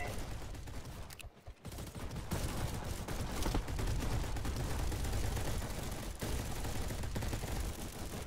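Video game gunfire rattles in dense, continuous bursts, like machine-gun and rifle volleys, loud and steady with only a short dip near the start.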